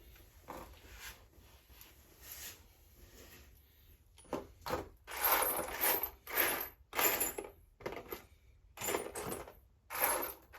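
M8 metal nuts handled during a Triton L200 Strada lift job with Superpro upper control arms, heard as a series of close metallic clinks and rattling jingles in bursts, with quieter gaps between.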